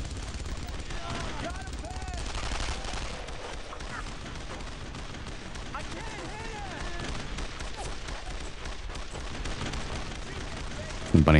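Gunfire aimed at a machine gun nest in the World War II shooter Brothers in Arms: Road to Hill 30, a dense, steady stream of shots and battle noise running throughout, with a louder burst right at the end.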